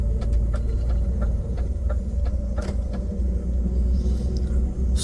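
A European long-haul truck cruises on a highway under cruise control at about 86, a steady deep engine and road rumble with faint clicks and rattles inside the cab.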